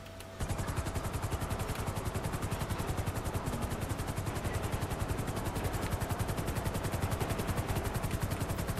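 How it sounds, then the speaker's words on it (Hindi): A damaged helicopter in GTA 5 flies with a loud, steady rotor thump and engine whine after a brief quiet start, continuous and close. "रिपेयर करने की ज़रूरत है मेरा हेलीकॉप्टर।"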